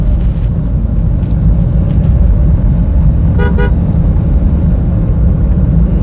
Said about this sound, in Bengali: আমি ওকে হর্ন দিয়ে দেখবো আসলে ও আমাকে সাইড দেয় কিনা